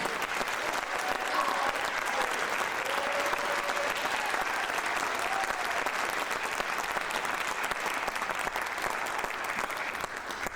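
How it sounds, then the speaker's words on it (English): A school concert audience at a high school midwinter concert applauds steadily for the young musicians, a sustained, even roar of many hands clapping throughout, with faint crowd murmur underneath. "Let's give one more round of applause for all of our kids who played tonight"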